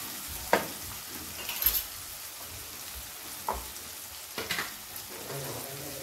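Tomatoes and onions fry in a pan with a soft, continuous sizzle, broken by a few louder stirring clatters of the utensil against the pan.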